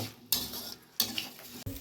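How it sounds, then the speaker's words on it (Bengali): A metal spatula stirs and scrapes soaked Gobindobhog rice with spices in a pan for cauliflower muri ghonto, giving three sharp clattering scrapes against the pan with quieter gaps between them. "গোবিন্দভোগ চালটা দিয়ে সুন্দর করে কষাবো এটা"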